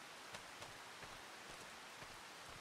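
Rain in the farming video game Farming Simulator 25, a steady dense hiss of falling drops with faint periodic patters, soft and even throughout with no voices.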